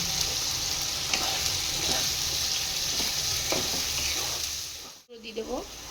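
Onion paste sizzles hard in a hot pan as the base for a mutton curry with potatoes, a loud continuous hiss with a few stirring scrapes, then a brief drop and a faint voice at the end.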